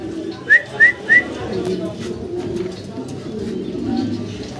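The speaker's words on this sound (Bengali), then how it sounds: "ইয়েলো কালারের ভিতরে একজোড়া লাহরি কবুতর" A pair of yellow Lahori pigeons at a pigeon farm, three quick rising coos in a row near the start, followed by a low murmur of background sound.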